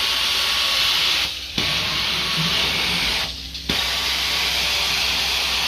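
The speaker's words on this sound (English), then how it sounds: "I am running the ProFire, TMF ProFire, built by Steam Action" A TMF ProFire truck-mounted carpet cleaning machine built by Steam Action runs steadily with a loud, continuous hissing roar, broken by two brief dips where the noise drops away before resuming at full strength.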